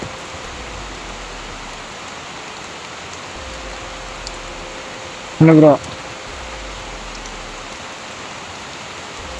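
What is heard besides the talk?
heavy rain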